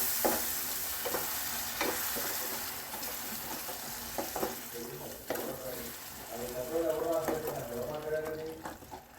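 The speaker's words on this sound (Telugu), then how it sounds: "ఇది మొత్తం ఒకసారి కలిపేసేసుకుందాం" Yogurt being stirred into a curry gravy in a pan, with a soft sizzle beneath irregular scraping and stirring strokes; someone talks over it now and then.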